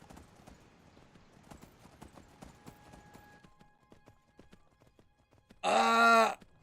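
Horse hooves clip-clop in a steady, moderately faint rhythm in the game Skyblivion, with faint tones underneath, before a loud, brief burst of sound cuts in near the end.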